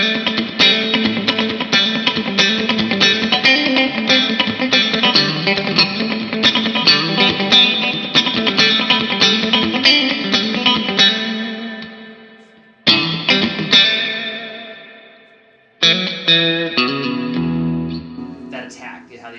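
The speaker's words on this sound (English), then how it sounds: "putting compression on the front of it is going to nail that sound every single time" Electric guitar played through a Fairfield Circuitry compressor pedal on a Jazzmaster in the center pickup position, strummed in quick rhythmic chops with popping attacks, then a few ringing chords that decay, loud and alone.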